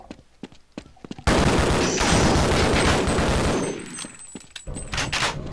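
Loud, dense video-game gunfire from a shotgun in Half-Life bursts in abruptly and roars continuously for a few seconds before fading into scattered shots and clicks.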